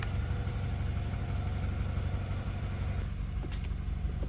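A wrecked BMW 320i M Performance idles as it is pulled into a shop, giving a steady, even low engine drone close by, with a few faint clicks near the end and no speech.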